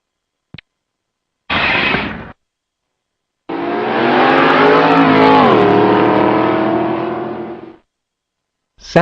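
A passing car sweeps by at close range, its engine and tire roar rising loud then dropping in pitch as it moves away, with short separate bursts before it and silence around it.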